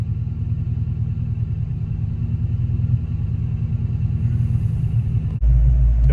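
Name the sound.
Fox Body Mustang engine running after starting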